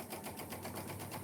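Steady, fast whir of a sewing machine stitching a pinwheel quilt block, a continuous even mechanical hum with no talk over it.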